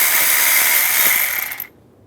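A hand ratchet with a 10mm socket loosens the air pump mount nuts on a 1998-2010 Volkswagen Beetle. A dense, rapid clicking runs steadily, then stops abruptly in the last half second.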